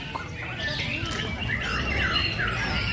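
Several murai songbirds whistle and chirp at once at an outdoor bird-singing contest, with overlapping bright calls over a steady crowd murmur.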